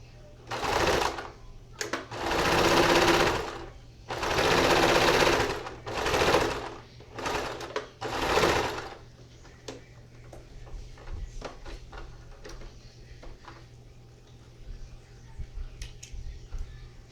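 A domestic sewing machine running a straight stitch with backstitching in bursts of rapid close mechanical whirring, followed by quieter clicks and handling noises, with no talking.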